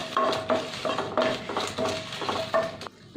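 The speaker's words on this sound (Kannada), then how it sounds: "ಈಗ ಬ್ಯಾಡಿಗೆ ಮೆಣಸಿನ್ಕಾಯಿ ಹಾಕ್ಕೊಳ್ತೀನಿ, ಆನಂತರ ಕೆಮ್ಮೆಣ್ಸಿನ್ಕಾಯಿ, ಇದನ್ನೆಲ್ಲನೂ ಚೆನ್ನಾಗಿ ಫ್ರೈ ಮಾಡ್ಕೊಳ್ಳೋಣ" A metal ladle works Byadgi and red chillies through hot ghee in a pan for mutton ghee roast. It makes a close, rhythmic series of clanks and scrapes with ringing metallic tones, loud and with no voices.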